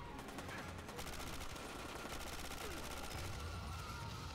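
Pistol fire in the Quantum of Solace video game comes as a fast, dense run of quiet shots layered over constant game noise, continuous and faint throughout.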